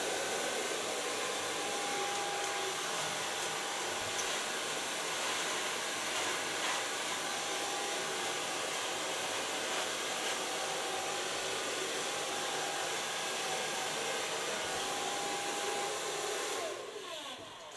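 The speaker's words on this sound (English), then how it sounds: "En even de föhn terug laten lopen." A hair dryer blow-drying hair during a salon makeover into a bob: a steady, loud, continuous whooshing roar of blowing air that runs unbroken for nearly the whole stretch, easing slightly only at the very end.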